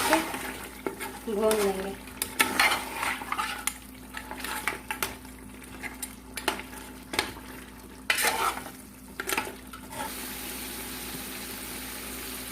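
Mutton with yogurt being stirred and sautéed in a pot for Pakistani biryani, repeated scraping and clanking of a utensil against the pan over a low sizzle, with a brief spoken phrase early on.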